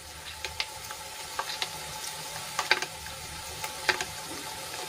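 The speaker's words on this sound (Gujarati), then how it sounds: "એમાં આપણે 1 ચમચી જેટલો બેસન એડ કરીશું અને એને સરસ રીતે આપણે છાશમાં ઓગાળી લઈશું" Gram flour (besan) stirred into sour buttermilk in a bowl: a faint liquid swishing with scattered light clicks of a spoon against the vessel, irregular and close, with no talking.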